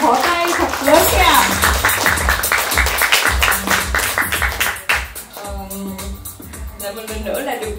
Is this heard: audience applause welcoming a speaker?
yes